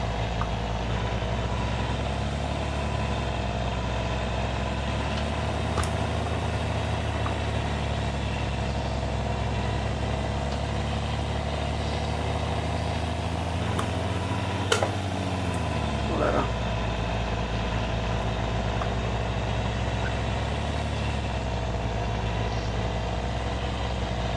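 Combine harvester engine in Farming Simulator 2013, a constant mid-pitched mechanical drone with a brief rise and fall in pitch partway through as the throttle is worked.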